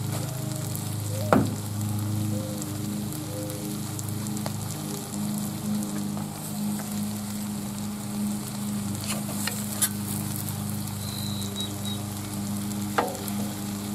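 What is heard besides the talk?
cooking oil sizzling on a Blackstone griddle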